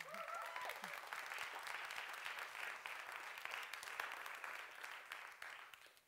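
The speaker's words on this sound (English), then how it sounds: "give a big Cheltenham cheer for the winner in Nicosia" A theatre audience at the FameLab International 2015 science-talk competition semi-final applauds a contestant, a dense, steady wash of clapping that carries on evenly for several seconds and fades slightly at the end.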